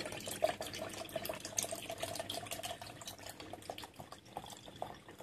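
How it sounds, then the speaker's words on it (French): Milk pours in a steady liquid stream into a homemade yogurt mixture, a soft trickling and splashing sound heard close up and fairly quiet, with no talk over it. "Donc on met tout le yaourt, on met tout le lait."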